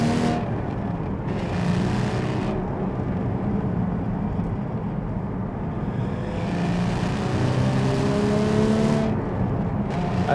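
A Porsche 718 GT4 engine running with the sports exhaust switched off, a steady, moderately loud drone and whir that swells slightly as it revs, with no voices.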